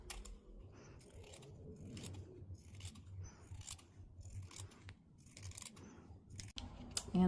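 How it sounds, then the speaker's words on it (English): Scissors snip through fabric for a hooded doll cloak, a run of quiet, closely spaced cuts with a short pause near the end and no talking. "I'm just going to cut this out and flip it."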